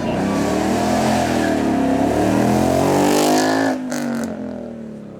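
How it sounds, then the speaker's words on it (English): A Ford Mustang with a V8 engine revs hard through the red range at a supercar hill demo, a loud, sustained, rising engine roar that cuts off abruptly near the end into a lower, fading rumble. "Mustang all the way through the red range,"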